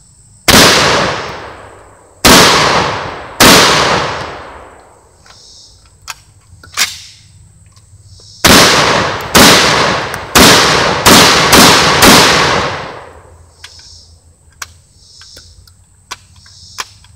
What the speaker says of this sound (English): I just built some AR-500 stands right there and then over there. So I'm gonna shoot that.